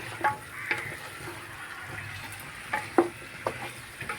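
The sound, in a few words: stirring chicken with masala in a pan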